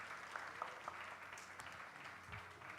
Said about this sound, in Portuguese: Aplauda o Senhor bem forte na vida da Laurinha.